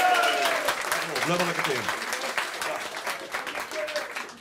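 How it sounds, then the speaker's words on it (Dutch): Applause for a performer on a Frisian radio or TV top-100 music programme, clapping rising under a host's voice as he talks over it, with a short musical tone near the start. "Een heerlijk applaus"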